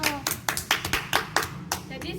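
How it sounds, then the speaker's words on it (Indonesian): Schoolchildren in a classroom clap their hands together in a brisk, rhythmic run of distinct claps, with children's voices faintly audible underneath. "tepuk tangan dulu"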